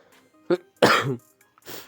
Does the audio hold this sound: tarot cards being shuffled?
no